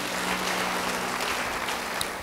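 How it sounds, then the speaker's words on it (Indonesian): A congregation claps in a steady, even burst of applause lasting a couple of seconds, fairly loud with a faint hum beneath. "Yang setuju beri tepuk tangan bagi dia."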